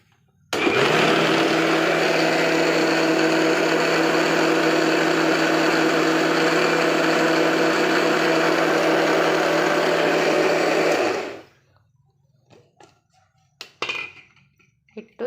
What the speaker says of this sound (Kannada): ಸ್ವಲ್ಪ ಹಿಟ್ಟನ್ನ ಸಣ್ಣಗೆ ರುಬ್ಕೋಬೇಕು.